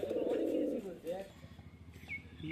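Teddy and other fancy pigeons coo in low, warbling bursts close by in a loft, with a few faint chirps and a voice speaking faintly underneath.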